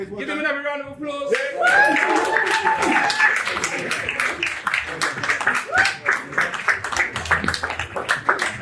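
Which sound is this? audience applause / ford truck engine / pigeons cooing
audience applause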